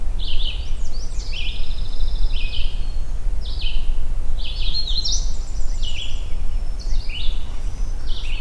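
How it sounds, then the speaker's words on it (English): A redstart sings an unusual variation of its song, with repeated bright, high chirping phrases at close range over a steady low rumble of background noise. "I've never heard a redstart do this kind of"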